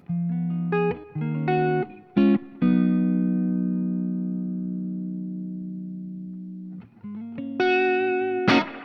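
Electric guitar through a Tone King Imperial preamp into a Marshall JMP power amp plays a few distorted chords, lets one ring out and slowly decay for several seconds, then strikes more chords, thick and amplified.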